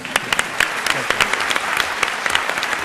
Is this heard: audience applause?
yes